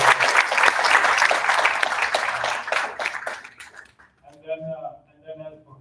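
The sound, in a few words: audience applause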